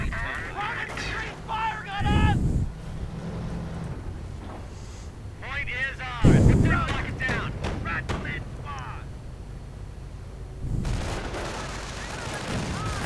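Heavy booms from artillery and an anti-tank gun in a WWII strategy video game, with a Sherman tank and a 57mm gun in action. Three sharp blasts land several seconds apart over clipped in-game unit voices and battle noise.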